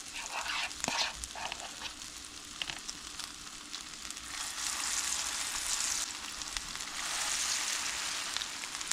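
Breaded pickles sizzle steadily in hot frying oil, a continuous close crackling hiss with brief sputters and pops throughout, no voices.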